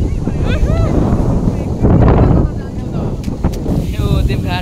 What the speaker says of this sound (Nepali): यहाँ हावा हुरी फेरि यस्तो आएको